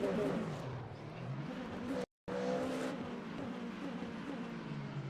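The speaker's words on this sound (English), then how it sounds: "Sports car racing." Sports car engines in a racing video game set under the lights in Bahrain, a steady droning whine of several cars with a shifting pitch and a brief dropout midway, moderately loud, with faint talk at times.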